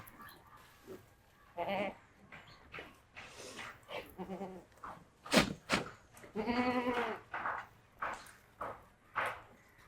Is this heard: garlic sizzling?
no